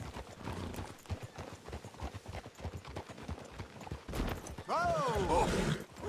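In the video game Red Dead Redemption 2, rhythmic hoofbeats clop steadily on hard ground, and a horse whinnies loudly near the end.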